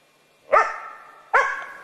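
A five-month-old laika hunting dog gives two sharp, loud barks about a second apart, close by, with no one talking.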